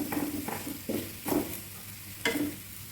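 Beef masala stirred into browned onions in a hot pan for Kerala-style beef varattiyathu: a steady sizzle broken by several distinct scraping stirs at irregular intervals, close and clear.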